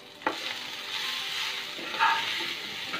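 Poha (flattened rice) being stirred in a hot pan, a steady soft sizzle with a couple of scraping knocks from the spoon, close and moderately quiet.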